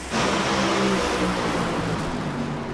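Top Fuel dragsters launching at night in the Top Fuel final at Pomona drag strip, a loud, continuous broadband engine roar that fills the whole clip with no pause.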